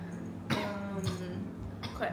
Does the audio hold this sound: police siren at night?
no